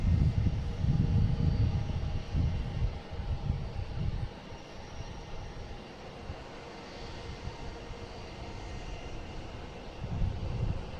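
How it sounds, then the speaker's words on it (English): A Turkish Airlines Airbus A350-900 from Istanbul lands on runway 27 at Boston Logan: a loud, low jet-engine roar that is strongest at the start, fades to a steady rumble, then swells slightly again near the end, with no talk. "next coming in is Turkish Airlines from Istanbul, A350 900, flight 81"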